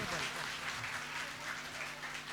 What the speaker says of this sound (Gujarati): આની તાળી જોરદાર હોવી જોઈએ